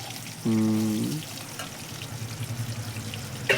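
Potatoes fry in a hot pan, a sharp sizzle bursting out as they hit the oil and then settling into a steady crackle, with someone speaking nearby.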